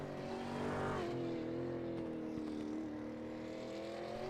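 Supercar from a racing video game lapping the Montreal circuit, a steady sustained engine drone with shifting pitch and a slight rise in revs, continuous and moderately distant throughout.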